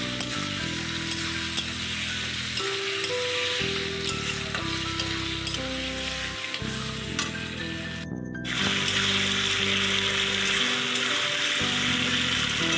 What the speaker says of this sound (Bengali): বেশ একটু ভালো করে নেড়ে নেব।